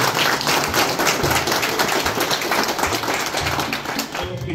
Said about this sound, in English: So one clap for all of you.